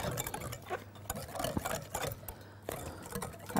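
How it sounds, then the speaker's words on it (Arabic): Batter for banana cupcakes with sugar and dessert cream being stirred steadily in a bowl, a continuous scraping, rhythmic whisking close up with light ticking strokes and no talk. "نقلب كويس قوي قوي لحد ما احس ان السكر داب"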